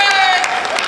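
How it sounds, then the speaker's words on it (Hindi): A crowd at a Hindi comedy poetry gathering bursts into loud, dense applause with a few cheers mixed in, heard close and full throughout the brief moment. "ताली बजाए।"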